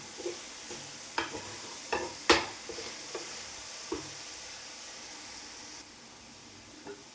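A spoon scrapes and taps against a pan in several irregular strokes while mixing a banana batter, loudest early on, then a quiet sizzling hiss carries on with a final faint clink.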